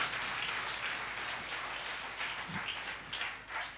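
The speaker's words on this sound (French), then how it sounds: "Clap for the Lord" Congregation at a French-language church worship service clapping for the Lord, a steady dense wash of many hands applauding together throughout, fairly full and close with no voices standing out.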